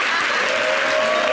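Brief burst of audience applause in a television studio, dense steady clapping from a crowd with no break.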